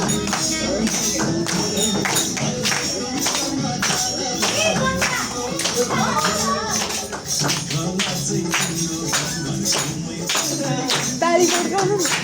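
People clap in rhythm along to bhajan devotional singing at an elderly care center, steady sharp claps under continuous singing and voices.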